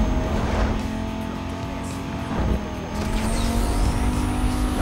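A Fiat Marea's engine in the video game Need for Speed Most Wanted drones steadily with a faint tire hiss, a smooth, fairly quiet electric-like whine rather than a roaring exhaust.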